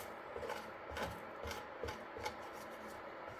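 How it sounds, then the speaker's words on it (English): Burnt egg is scraped off a ceramic non-stick frypan, quiet rhythmic rasping strokes repeating close by with no talk. "burnt egg's pretty much peeling off there in the plate"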